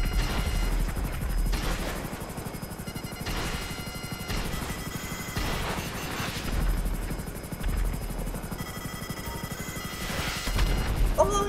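An FH-1 Hunter helicopter in GTA V Online takes fire, its rotor thudding loudly and continuously while bursts of impacts and explosions crack over it, with faint talk in the background.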